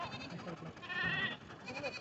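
Goats at a village goat market in Bolda, Hingoli, bleat amid a steady crowd murmur, one wavering cry standing out near the middle and a fainter one at the end.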